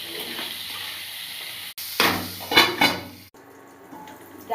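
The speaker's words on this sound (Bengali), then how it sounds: "খুব সুন্দর ভাজাচ্ছি" Pointed gourd (parwal) frying in a pan, a steady close sizzle with clattering stirs and scraping bursts around the middle, then quieter frying toward the end.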